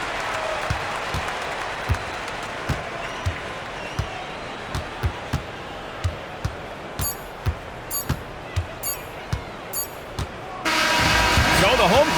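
Arena crowd in the NBA 2K26 basketball video game cheering after a home-team victory, a steady roar under commentary with regular ball bounces and sneaker squeaks, swelling louder near the end.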